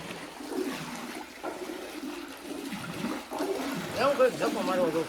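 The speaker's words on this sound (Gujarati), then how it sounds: "જો તાજું પાણી ચાલુ કરી દીધું છે" Fresh water runs into a tank or well after algae has been cleaned out, a steady rushing flow heard close by under talking voices.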